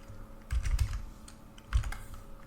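Keys clatter on a computer keyboard while a terminal command is typed in Archcraft Linux, arriving as two short bursts of quick taps close to the mic with no talk.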